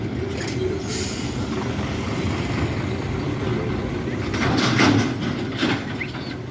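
A heavy truck trailer rumbles past on a busy road near a school crossing, a continuous low roar that swells as it passes and is joined by brief higher hisses of other traffic.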